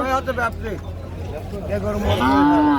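Cattle low loudly and close at the busy Madhupur cattle market, with drawn-out moos rising over a steady crowd murmur while people talk nearby.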